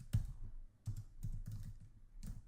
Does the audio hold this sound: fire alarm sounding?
no